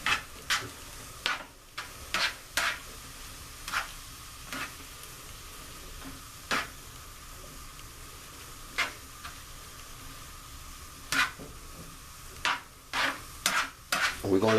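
Green beans are stirred in a cooking pan, with irregular scraping clicks of a utensil over a soft background sizzle, close and quiet with no speech.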